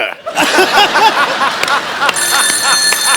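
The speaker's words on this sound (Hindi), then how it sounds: "संतोष को फोन लगाया जाए प्लीज" A steady electronic phone ring cuts in partway through, sounding over a lively TV comedy-show studio audience's laughter and chatter.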